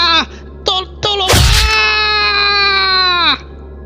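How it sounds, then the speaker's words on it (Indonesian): Dramatized death screams in a spoken horror story: a few short anguished cries, then a burst of noise and one long, loud, sustained scream that fades off. "Jeritan kematian semakin terdengar jelas di telinga Jigen."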